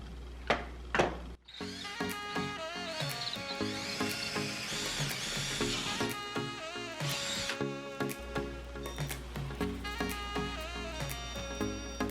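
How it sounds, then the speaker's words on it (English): Power drill boring into a wall stud next to a fireplace, a long whining motor drone that shifts pitch under load, preceded by a few sharp knocks, close and fairly loud. "got my drill, just so you know, got the drill bit on there, just so I know where I'm drilling"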